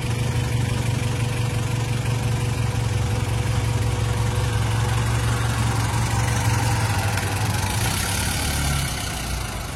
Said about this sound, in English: Want to see how she does driving. There's a 2021 Honda Civic Turbo